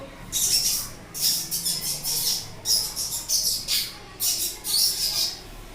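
A voice mimics birds with bursts of high, shrill chirping trills, about six short phrases separated by brief pauses, close and fairly loud.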